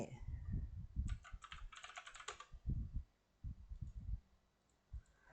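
A username and password are typed on a computer keyboard in quick bursts of close, soft key clicks with short pauses between groups.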